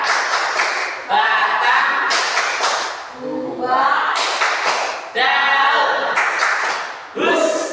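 Group of children doing the tepuk tanaman rhythmic clapping game at a school greening program event, bursts of loud unison clapping alternating with chanted words, close and lively.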